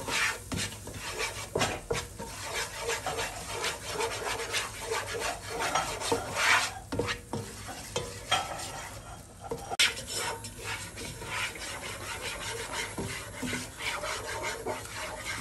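Flour roasting in oil in a pan over low heat, stirred steadily with a spoon; a continuous close scraping and rasping against the pan base, with a few louder strokes, no voices.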